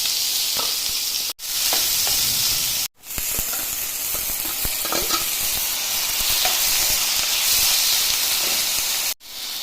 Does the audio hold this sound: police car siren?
no